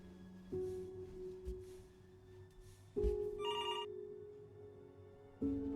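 Telephone ringing in the video game Before Your Eyes, a steady electronic ring tone that repeats in three bursts with chirpy overtones, quiet and alone without voices.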